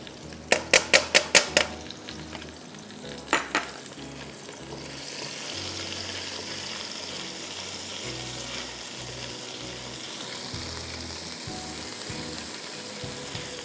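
Green chillies and chopped garlic hit hot oil in a pan, giving a few sharp clatters and scrapes at first, then a steady, moderately loud sizzle that carries on alone.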